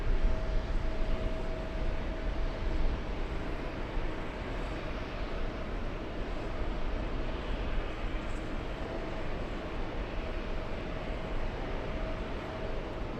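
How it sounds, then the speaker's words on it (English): Air Force One landing at an airport, a steady broad jet engine roar that holds constant and loud throughout, heard from some distance with a faint tonal whine above the rumble. "it looks like Air Force One landing a few minutes after 7 p.m."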